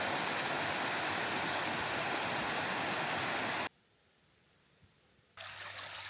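Jessup River flowing on the Northville Lake Placid Trail, a steady loud rush of water that cuts out abruptly to near silence for a couple of seconds, then resumes.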